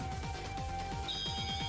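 A cell phone beeps repeatedly in a tense mystery game scene, a sustained electronic tone riding over a loud, insistent pulsing pattern with no talk.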